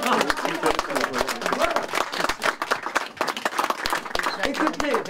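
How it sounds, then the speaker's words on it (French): A small group claps in a quick, uneven patter of nearby handclaps at a 100th birthday celebration, with voices talking underneath. "Et bon, on applaudit Martine, elle entendra."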